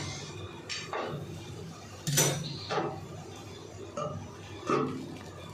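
A metal lid goes onto a pot of okra curry simmering in spiced water, making a few sharp clinks and clatters spaced a second or so apart, close by.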